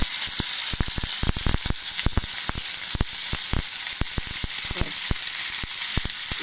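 Cumin and dried chilli sizzle loudly in hot oil, a dense, steady hiss shot through with rapid sharp crackles and pops that come in quick irregular bursts throughout, close up and without any talking.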